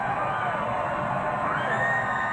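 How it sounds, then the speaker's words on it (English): A NASCAR race crowd cheers and whoops at the finish, a dense, loud roar of many voices filling the short stretch without letup. "Kasey Kahne salutes the crowd"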